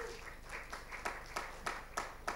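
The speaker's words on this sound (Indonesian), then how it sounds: "Tepuk tangan buat Tuhan Yesus." A church congregation offers quiet applause in a handful of separate, evenly spaced claps, faint and somewhat distant, with no talk over them.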